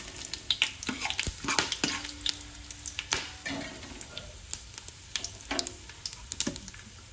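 Cumin and whole spices fry in hot oil for a paneer biryani, with constant crackling sizzle and busy, irregular scrapes and clinks of a spoon stirring the pan up close.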